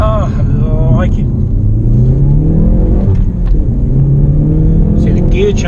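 A Hyundai i30 N's engine drops through the gears, loud and close with rising and falling revs and a steady rumble, with a voice talking over it.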